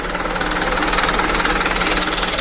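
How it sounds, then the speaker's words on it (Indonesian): A small diesel engine idles steadily right after a new fuel injection plunger is fitted, its close, continuous knocking chug holding an even rhythm with no voices over it. "Setelah mesin hidup, bisa kita setel pelunyernya."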